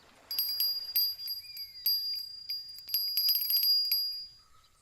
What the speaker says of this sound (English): Dinner bells going again.